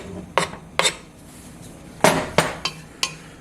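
Garlic and ginger stirred in a hot, dry pot over high heat with a utensil, producing a series of sharp metallic clinks and scrapes at an irregular pace, close and clear with no talking.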